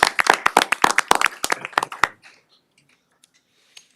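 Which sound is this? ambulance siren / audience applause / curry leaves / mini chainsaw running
audience applause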